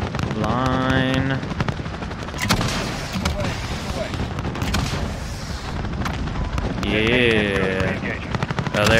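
Air support fires on targets in Call of Duty Modern Warfare, with loud sustained machine-gun bursts, booming impacts and rotor drone, while radio voices and players talk over the battle.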